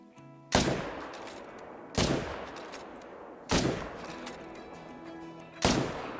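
Four loud rifle shots in the hunting game Call of the Wild, aimed at running water buffalo, each sharp crack spaced about one and a half seconds apart and trailing off in a short echoing decay.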